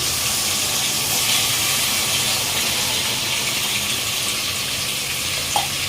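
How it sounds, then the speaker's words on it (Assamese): Hot water is sprinkled onto chicken meat cooking in a pan. It gives a steady, loud hiss and sizzle that runs unbroken throughout, with a small clink near the end. "আমি অকণ পানী ছটিয়াই দিছোঁ, গৰম পানী ছটিয়াই দিছোঁ"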